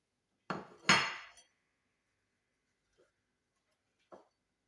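Plates are swapped and handled: two sharp ceramic clatters close together, then silence broken by two faint, brief clinks.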